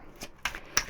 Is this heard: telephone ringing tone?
no